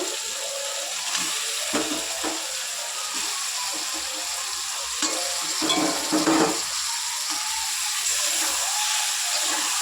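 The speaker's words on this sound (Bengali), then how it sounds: "এবার আমি মাংসগুলো তুলে দেবো।" Meat fries in a pan with a cooked spice paste, making a steady hiss and sizzle. A few louder stirring bursts stand out against the constant background frying, and there is no talk.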